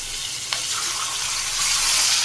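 Onion paste for a bhetki fish curry hitting hot oil with black cumin seed tempering: a steady, bright sizzle and crackle that swells slightly, close by, with a brief clink near the start.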